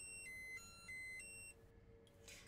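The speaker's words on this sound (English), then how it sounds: "You can hear it beeping, can't you?" A Tamagotchi toy beeping faintly: a few short, high electronic tones in quick succession, then a brief pause and a softer chirp against quiet room noise.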